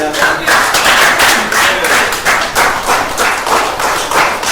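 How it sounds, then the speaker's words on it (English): Applause and clapping from the audience at a fundraiser art show, steady and fairly loud across the whole stretch, with a few individual claps standing out near the mic and faint voices mixed in. "So round of applause for Ali."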